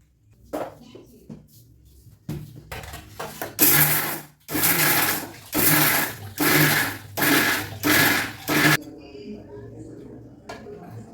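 A kitchen mixer grinder whirs through spices and ingredients for kola balls in a run of short, loud pulsed bursts, with a voice speaking before the grinding starts.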